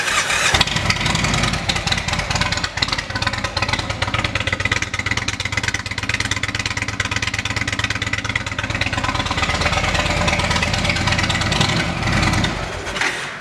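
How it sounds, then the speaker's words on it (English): A 2016 Indian Chieftain V-twin motorcycle engine starts and settles into a steady, loud, close idle with a deep rumble that holds evenly for about thirteen seconds before cutting off, with no talk over it. "It is truly a beautiful thing when a motorcycle sounds as good as it looks."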